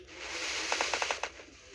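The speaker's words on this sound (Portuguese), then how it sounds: "o cara tá atirando aqui" A quick string of about six gunshots rings out in a shooter video game, moderately distant and soft over a faint background hiss.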